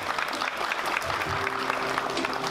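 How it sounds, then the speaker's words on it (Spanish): Warm applause fills a banquet hall at a baby shower party, dense continuous clapping from a gathered crowd, moderately loud, with a brief sustained tone from music or a voice in the background. "Omara y Jorge, un fuerte aplauso para ellos"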